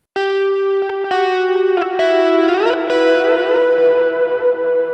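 An electric guitar plays a single-note lead line through effects: a few sustained, bright notes with distortion, echo and shimmering modulation, then a run of quicker notes that ring and trail off. No one speaks.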